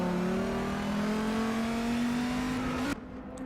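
A Bentley race car pulls away at the green flag of the 12 Hours of Nürburgring, its engine note climbing steadily and loud for about three seconds before cutting off abruptly, no voices over it.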